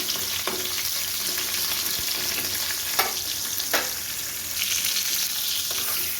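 Continuous crackling sizzle of pointed gourd pieces frying in a pan, broken by occasional clicks and scrapes of a spatula turning them.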